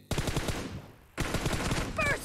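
Automatic gunfire in the PUBG Mobile game during an arena team deathmatch comes as rapid bursts of shots, with a burst, a short gap, then another burst, loud and close.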